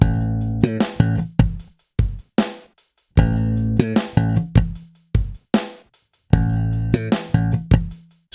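A slap bass lick played on electric bass, a busy, punchy run of slapped notes, popped accents and muted ghost clicks in a repeating funky phrase, close and loud with no voices.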